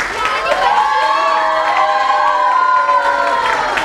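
A crowd of children cheers and shouts loudly with scattered clapping after a group performance at a music evening. The excited voices are close and continuous.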